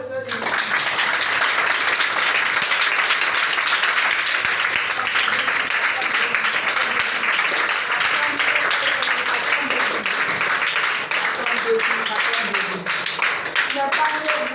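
A congregation at a school prayer gathering applauds the Lord, sustained loud clapping from many hands filling the space for the whole stretch, with voices mixed in beneath.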